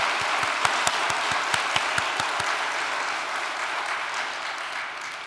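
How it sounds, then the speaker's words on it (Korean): A church congregation at a Sunday worship service at Cheonwongung Cheonseung Church gives dense, steady applause, with a few sharp rhythmic claps standing out early before the sound softens slightly toward the end. "큰 박수를 한번 올려주시기 바랍니다"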